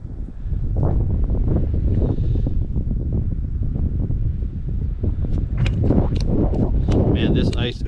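Steady cold wind buffeting a microphone outdoors on ice while ice fishing, a loud continuous rumble with gusty noise throughout and occasional scraping sounds.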